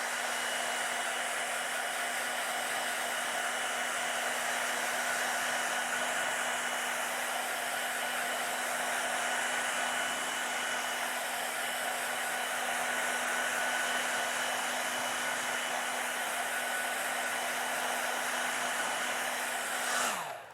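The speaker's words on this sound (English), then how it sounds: "and then we're back to the hairdryer." A hair dryer blows steadily and loudly for about twenty seconds, a constant whooshing hum with a faint whine, then cuts off at the end.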